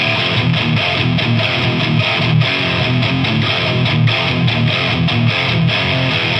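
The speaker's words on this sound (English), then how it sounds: "Let's engage the pedal so you can hear it." Electric guitar played through an engaged effects pedal into a Marshall 1968 cabinet, close-miked with a Voodoo Ribbon 1 ribbon microphone, giving a loud, dense, continuous riff with no talking.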